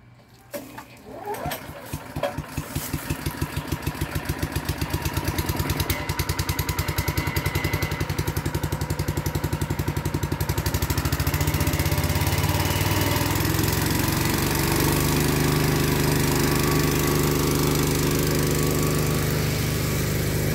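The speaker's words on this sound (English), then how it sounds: "What I like about the belt driven one, it starts up really," A belt-driven SkyVac gutter cleaning vacuum engine is pulled to life with a few sputters, then settles into a steady, loud, continuous drone that runs alone for the rest of the clip.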